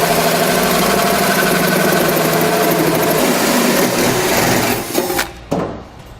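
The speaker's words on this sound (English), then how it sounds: "we're going to drill in a 2-inch hole for our adapter." Power drill with a hole saw cutting a 2-inch hole in the bed of a 2016 Chevrolet Silverado to fit a 5th wheel wiring adapter, a loud steady whining drone that winds down abruptly near the end.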